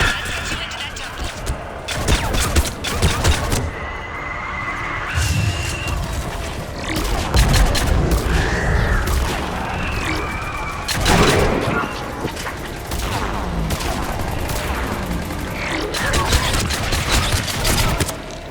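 Missile strikes and heavy weapons fire in the Mass Effect 3 video game, on the Thessia mission: repeated booming impacts and bursts of gunfire come in waves across the stretch, with voices and grunts mixed in.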